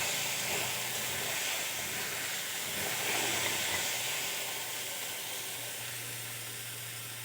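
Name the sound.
taro stolons (kochur loti) frying in a wok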